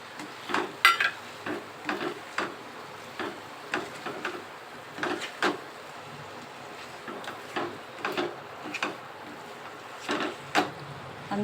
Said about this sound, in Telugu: ఇప్పుడు ఎగ్స్ వేసేసుకొని ఒకసారి కలపాలి. అలాగే ఆలు ముక్కలు కూడా వేసేస్తున్నాను.